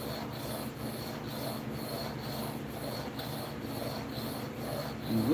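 A blade is rubbed steadily across a 400 grit sharpening stone, a continuous close gritty rasp with faint rhythmic strokes and no talking.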